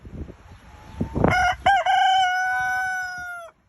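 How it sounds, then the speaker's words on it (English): A cockerel's crow, played back from a phone, rings out as one loud, drawn-out cock-a-doodle-doo with a rising start and a long held final note, after some faint background murmur. "this is a cockerel called Boris, and I've got it on my phone"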